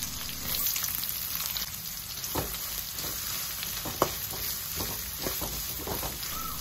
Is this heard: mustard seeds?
yes